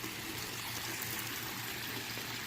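Water pours steadily from a koi pond's waterfall bowl into the pond, making a continuous, even rushing and splashing wash close by with no pauses and no voices.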